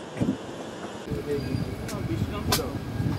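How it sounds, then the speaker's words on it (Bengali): Heard from on board, the Sealdah-Puri Duronto Express (22201) rolls through Khurda Road Junction in rainy weather with a steady low rumble, rhythmic clanks and a couple of sharp knocks, with a voice speaking over it. "খুর্দা রোড জাংশন স্কিপ করে আমার ট্রেন বেরোচ্ছে।"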